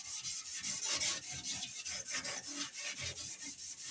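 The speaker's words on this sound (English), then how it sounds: "She's going to get sanded a lot more" Steady back-and-forth sanding over fiberglass filler and paint on a car body, a rhythmic rasping scrape repeating at an even pace, fairly faint and close, with no voices.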